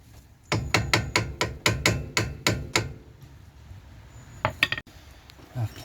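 A metal tool taps a brake caliper into place on a Rover 45, with about nine sharp, evenly spaced knocks in quick succession, followed by a pause and a couple of lighter clanks.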